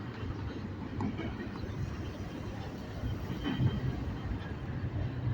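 Long freight train passing near a Home Depot, its wagons producing a steady low rumble with faint rhythmic wheel clatter, moderately close and continuing without talk.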